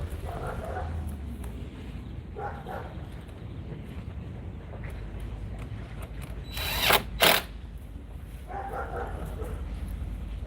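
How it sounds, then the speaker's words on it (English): Two short bursts of a power tool whirring, loud and close, during spark plug replacement on a 2013 Ford Edge with a 3.5L engine, over a quiet background hum with faint movement noises. "I like using power tools to make things go quicker."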